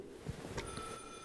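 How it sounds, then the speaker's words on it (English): A telephone rings faintly beneath a dense, noisy background, a short high-pitched trill that sits under constant hiss without speech. "Phone's ringing."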